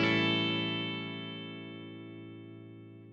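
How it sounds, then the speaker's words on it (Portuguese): One strummed chord on an electric guitar with a clean tone and a little reverb rings out clearly and alone, then slowly decays. "Eu tô com um timbre limpo aqui, né? Um pouquinho de reverb e tal."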